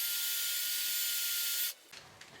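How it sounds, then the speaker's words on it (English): A brief burst of high-pitched drilling into wood through a guide bushing, loud and close, cutting off abruptly, followed by a few light knocks and handling sounds. "so we can just go ahead and drill that in"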